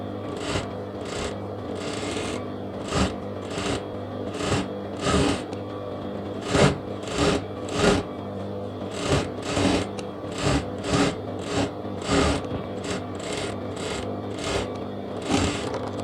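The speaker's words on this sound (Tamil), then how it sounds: "இப்போ வந்து லைனிங் சுற்றி ஓரத்தில் ஒரு தையல் ஒன்று அடிச்சுட்றேன்" A sewing machine runs a seam around the lining edge of a lehenga blouse in short, repeated bursts of rapid stitching, close and fairly loud with brief pauses between runs.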